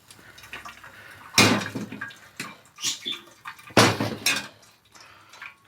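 Water from boiled potatoes being strained out of a cooking pot in a home kitchen, heard as two loud splashing pours with clattering of the pot and utensils in between, close up and without talk.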